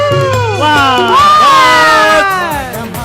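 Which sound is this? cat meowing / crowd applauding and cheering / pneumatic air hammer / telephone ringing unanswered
crowd applauding and cheering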